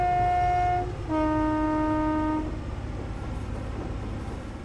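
A train in Train Simulator 2017 on the West Highland Line sounds a steady two-tone horn, then rumbles along at a constant pace with continuous engine and track noise, loud and close.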